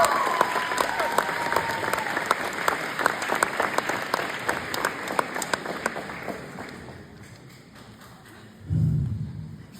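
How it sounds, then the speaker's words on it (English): Audience applause fills a grade 8 graduation ceremony hall: steady, dense clapping from many hands for several seconds, thinning out and fading near the end, followed by a brief low thump. "So give yourselves a pat on the back and a round of applause because you guys deserve it."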